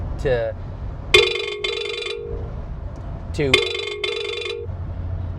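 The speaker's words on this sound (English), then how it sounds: "That was my phone. That was loud." A phone rings loudly in two bright electronic bursts a couple of seconds apart, with a faint voice just before the first ring.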